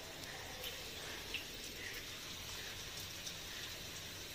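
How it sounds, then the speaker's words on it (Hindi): Steady heavy rain falls in the morning, a dense continuous hiss of drops with occasional louder spatters, heard alone without voices. "पहला मैं सुबह सुबह ही दिखा रही हूँ कि बारिश हो रहा"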